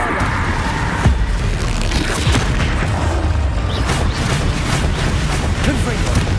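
Bombarda blasting spell explosions in a Harry Potter video game: heavy booms and crackling bursts over a constant, dense roar of noise, with voices talking throughout.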